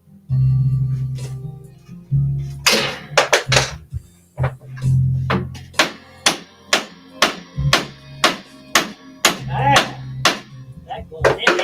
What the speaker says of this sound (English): Let me try to hammer it in a little bit too.